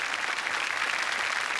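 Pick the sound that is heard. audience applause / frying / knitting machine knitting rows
audience applause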